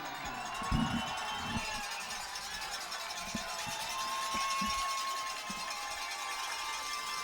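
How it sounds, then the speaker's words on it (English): High school varsity football crowd cheering at a distance in an outdoor stadium, a diffuse, steady roar with occasional thumps nearby and faint whistle-like tones. "The crowd is cheering."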